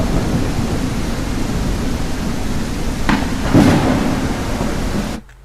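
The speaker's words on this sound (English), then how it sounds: "Thunder crackling in the distance, right?" Thunderstorm weather effect in a game engine: a steady wash of rain-like noise with a distant rumble of thunder swelling near the end, then cutting off abruptly.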